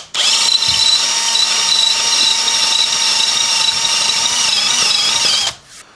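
A power drill bores steadily into a gold Yamaha Revstar guitar body, a loud close whining motor drone with a high pitched squeal that holds evenly for about five seconds before stopping abruptly.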